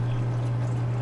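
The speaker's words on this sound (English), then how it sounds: "It's only supposed to be a little bit of water coming out of that last line, that open channel." Water runs from the open channel of a Bean Animal overflow into a 40-gallon sump beneath a 75-gallon aquarium, a soft steady trickling wash over a constant low hum.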